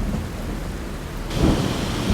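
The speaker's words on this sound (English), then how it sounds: "We wait out the storm" A thunderstorm in the Appalachians, with steady heavy rain hissing on surfaces and a deep rumble of thunder swelling partway through.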